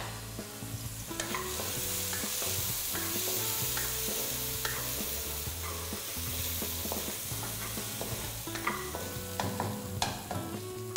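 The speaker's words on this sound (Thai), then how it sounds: "เต้าซี ่เราจะผัดให้เต้าซี่เนี่ยหอมก่อน" Coriander root and fermented soybeans stir-fried in a hot wok, a steady close sizzle broken by repeated scraping and clinking of the spatula against the pan.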